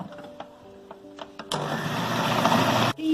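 Electric grinder whirring as it grinds a gushtaba meat mixture, its steady motor drone kicking in sharply after a few faint clicks and running loud and continuous before abruptly cutting off near the end.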